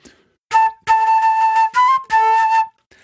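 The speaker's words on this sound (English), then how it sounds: "I've got my flute here. Check it out." A flute plays a few sustained notes, clear and close, separated by short breaks, with no talking.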